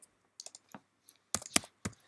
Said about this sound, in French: hop là, je tape n'importe quoi